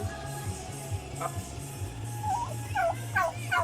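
Turkey gobbling nearby, a few rapid warbling gobbles repeated toward the end over a rhythmic low mechanical hum.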